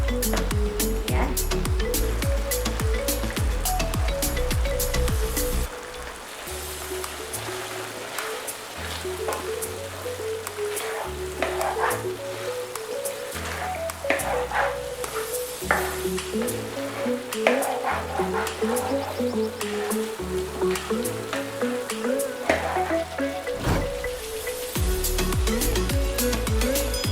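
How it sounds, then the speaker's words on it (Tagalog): Bicol Express simmering in a pan, a soft continuous bubbling sizzle with occasional scraping stir sounds, heard under someone talking and steady background music. "habang kumukulo siya ng 10 minutes, huwag din nating kakalimutan na hahaluin in between para naman hindi masunog yung sa ilalim niya"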